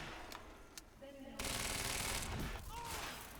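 Gunfire in the video game Quantum Break comes as quiet, distant bursts of rapid shots under faint background sound.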